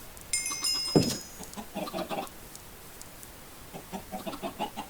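Chickens in the game Minecraft give scattered short clucks, close and moderate in level, with a brief high tone and soft clicks early on.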